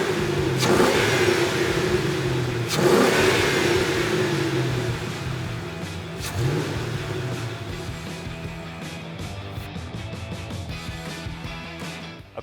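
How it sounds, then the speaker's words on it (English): A 2005-2009 Mustang GT V8 fitted with an Airaid throttle body spacer revs hard several times, each sharp rise in engine roar dropping back toward idle, loud and close with no talking. "we're going to go ahead and give it a couple of revs so you can hear the comparison and you can hear the sound for yourself"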